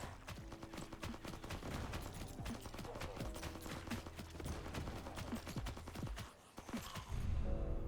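Rapid video game gunfire rattles in dense bursts of sharp shots, steady and fairly close, before a brief lull and a heavier final burst.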